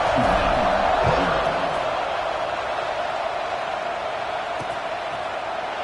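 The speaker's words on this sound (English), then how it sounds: "this crowd is buzzing after that last score" A football stadium crowd buzzes after a touchdown, a dense, steady roar of many voices spread wide and fairly loud, with a commentator's voice briefly audible at the start.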